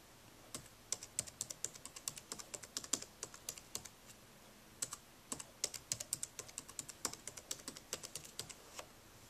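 Keys clatter on a Dell Inspiron 1545 laptop keyboard in bursts of quick, close, crisp taps with brief pauses between words, set against a quiet room.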